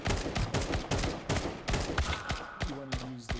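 Rapid bursts of AK rifle fire in Counter-Strike on the Dust2 map, loud, sharp, evenly spaced shots in steady repeated volleys, with a brief tonal in-game beep near the end.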